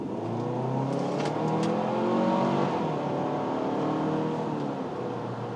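A 2024 Kia Sorento X-Line SX-Prestige AWD accelerates in normal drive mode, its engine note rising steadily with smooth climbing harmonics, heard from inside the cabin as a constant, moderately loud drone without talk.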